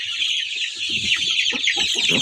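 Kuchinsky and Barkovsky chickens in a coop cluck in quick, repeated bursts close up over a bright, steady high-pitched hiss.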